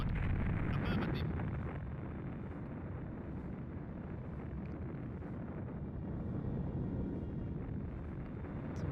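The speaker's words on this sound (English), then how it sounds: "It's a very loud explosion sound." An explosion in the space game Nexus: The Jupiter Incident. It is a loud, sustained roaring rumble with a sharp crackle at the start, and it fills the whole stretch without fading.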